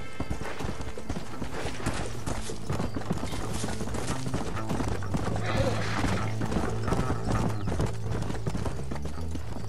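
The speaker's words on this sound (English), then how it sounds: "Get on your horse, amigo." Horse hooves clip-clop steadily in the Red Dead Redemption video game, a brisk rhythmic beat with a whinny and a busy layer of other game sounds mixed in.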